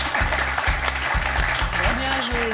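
Studio audience applause on a French TV quiz show, a steady wash of clapping filling the whole moment, with music tones and a voice rising partway through.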